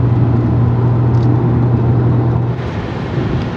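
A car cruising along a highway near Tijuana, Mexico, giving a steady loud road and engine drone with constant tire rumble, heard from inside the vehicle with no pauses.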